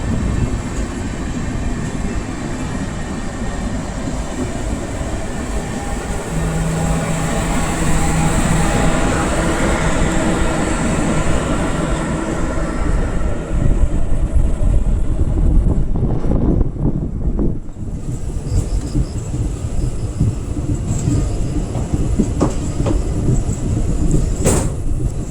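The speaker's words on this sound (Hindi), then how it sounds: "चलिए इसी के साथ हमारे ट्रेन का भी डिपार्चर हो चुका है।" The Latur Mumbai Superfast Express pulls away and runs on, a loud sustained rumble and rattle of carriages on the rails that swells and then shifts with a few sharp knocks and clunks near the end.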